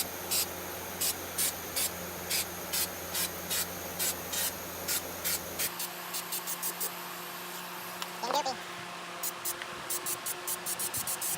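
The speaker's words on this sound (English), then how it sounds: "we're going to put this Dyno Matte spray on for interior exterior use" Aerosol can of Dyno Matte rust-proofing spray paint sprayed onto a Ford body during sandblasting and restoration work, heard as a steady run of short, loud, hissing bursts with brief gaps, then quicker, softer spurts near the end.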